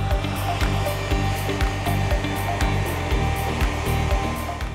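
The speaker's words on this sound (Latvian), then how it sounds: "mēs savā darbībā izmantojam arī putekļsūcēju, kas ir saslēgts jau un rada to vakumu un iesūta sevī to lielāko daļu" Deck brushing machine with carbon grit brushes and a connected vacuum cleaner runs on an outdoor wooden terrace, a loud steady motor drone with rhythmic scrubbing pulses throughout, no talking.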